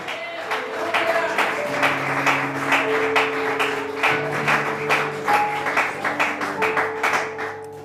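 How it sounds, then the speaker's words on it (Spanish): A church congregation claps in rhythmic, fairly quiet bursts over sustained organ or keyboard tones, and the clapping carries on throughout. "¿Cuántos le dan un aplauso al Rey de Gloria?"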